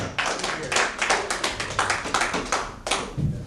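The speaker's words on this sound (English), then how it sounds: "round of applause" A small comedy-show audience claps for latecomers, sparse, distinct hand claps in an uneven rhythm, fairly close and without much crowd noise.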